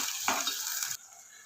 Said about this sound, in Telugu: ఉల్లిపాయలు ఇట్లా వేయించుకోవాలండి.